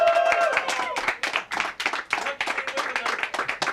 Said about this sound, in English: that's the biggest applause we've had of the 4